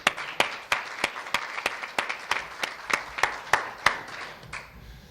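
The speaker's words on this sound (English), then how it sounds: "they deserve a round of applause for the good work that they've been doing" A small audience at a Latino leaders' forum on AIDS, diabetes and mental health applauds in a fairly faint, sparse round of claps with an almost regular rhythm.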